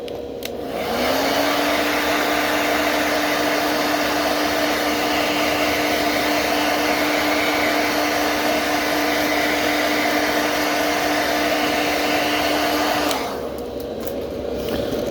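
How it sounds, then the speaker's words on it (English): A hair dryer runs steadily for about twelve seconds to dry paint on a fishing lure. It gives a loud, even blowing whir that starts and stops cleanly, with no talking. "One tip, always keep the hairdryer moving,"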